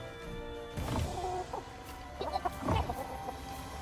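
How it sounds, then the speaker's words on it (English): A big chicken monster in a Monster Hunter action roguelite video game clucks in a few loud, squawking bursts over game music and ambience. "Let's see what Big Chicken sounds like."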